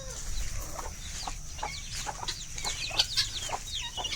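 Desi chickens on a small farm cluck steadily as they gather for feed, with short overlapping calls and a few sharper squawks close by, and no talking.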